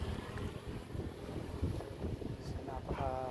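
Sea wind at a seawall in Bicol rushes in a steady roar across the microphone, with a brief voice near the end.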